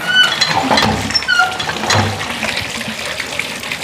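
Water splashes and trickles close by in irregular bursts, with a brief gurgling pour near the middle, no voices.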